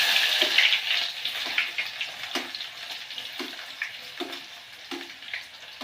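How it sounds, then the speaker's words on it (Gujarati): Onion sizzling in hot oil with spices, a steady bright crackle interrupted by regular stirring scrapes and knocks, up close in an outdoor village kitchen. "આ બધા મસાલા અને તેલ આવી ગયું છે ભાઈ ફૂલે ફૂલ હવે આપણે ડુંગળી નાખી"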